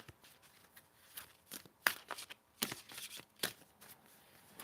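Tarot cards are shuffled by hand in a run of quick crisp riffles and soft slaps. The bursts are irregular and close, and each one is fairly quiet.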